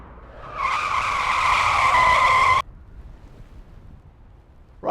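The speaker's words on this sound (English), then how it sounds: "if you hear the screech of brakes" A BMW 535d from 2015 stops hard, its tyres and brakes letting out a loud, sustained screech for about two seconds, rising up and then cutting off abruptly, leaving quiet background.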